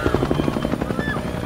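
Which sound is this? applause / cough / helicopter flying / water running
helicopter flying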